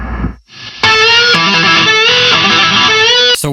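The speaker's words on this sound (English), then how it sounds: "a pitch shifter, one note shifted up 1 octave, another note shifted up 2 octaves, original note mixed out, a little bit of digital delay" Guitar run through a pitch shifter stacking one- and two-octave-up voices with the dry note removed, harsh digital distortion and a touch of digital delay; loud sustained shrill chords ring for about two and a half seconds after a short quieter lead-in.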